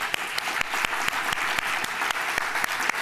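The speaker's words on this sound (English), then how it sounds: "Let's give a round of applause to the panelists." A conference audience applauds the panelists after a session on sustainable cities and smart technology, a steady, even patter of many hands with sharper claps standing out, continuing at moderate volume throughout.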